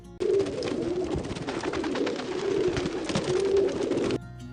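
Pigeons released at a resort coo and flutter, a steady layer of close cooing and wing noise lasting about four seconds before cutting off abruptly.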